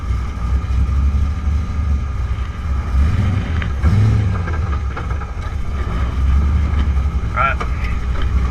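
An LS-swapped Nissan 240SX driving with fresh rear tires, its engine and road noise a steady loud drone from inside the cabin, with someone talking over it.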